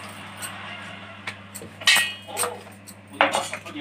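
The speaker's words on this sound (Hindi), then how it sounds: "अब इसको मैं ढक्कन हटाऊं" Metal lid lifted off a cooking pot of banana kofta: a few light clinks and scrapes of metal, with a loud clatter near the middle and another toward the end, over a steady low hum.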